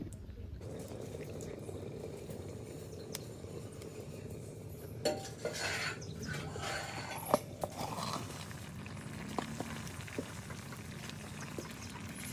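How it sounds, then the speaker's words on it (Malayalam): Mutton curry bubbling steadily in a clay pot, a continuous low simmering hiss with occasional faint clinks of utensils against the pot. "മൺചട്ടിയിലാകുമ്പോൾ എന്താണ് പെട്ടെന്ന് തള വരും കേട്ടോ"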